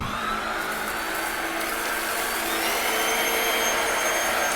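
A Black+Decker stick vacuum runs steadily and loudly on carpet, a continuous high-pitched whirring motor drone with a slight rise in pitch partway through as it kicks up to max setting.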